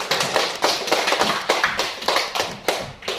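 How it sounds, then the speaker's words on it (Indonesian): Rhythmic group clapping in a classroom lesson, a series of sharp, evenly spaced claps in unison, close and loud, with no talk over it. "terima kasih, tepuk tangan lagi"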